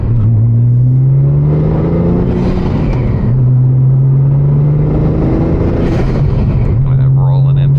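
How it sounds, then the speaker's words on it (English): Inside a Porsche 997.1 Turbo fitted with Alpha kit fenderwell intakes, the engine drones loudly and rises in pitch through two pulls, with a deep rumbling intake roar filling the cabin and a voice talking over it. "See what the fenderwell intakes sound like from the inside of the car."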